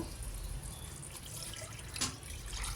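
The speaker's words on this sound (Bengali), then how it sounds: "এবার জল দিয়ে দেবো" Water poured into a pan of fish curry masala made with green chilli and chilli powder for a mustard pomfret dish, a soft continuous splashing trickle with a brief louder gush near the end, close by with no talk.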